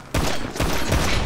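Dense burst of rapid gunfire from Grand Theft Auto V, loud and close, with several overlapping shots rolling through the whole moment.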